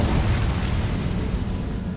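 An Incendio fire spell cast in Hogwarts Legacy, a loud continuous roaring blast of fire that holds steady for two seconds, with no voices over it.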